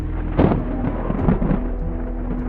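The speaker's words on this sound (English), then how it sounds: "The thunder grew louder and stronger, and lightning flashed." Thunder rumbles low and heavy as an audiobook sound effect, with a couple of rolling swells and cracks over a steady deep drone, no voice present.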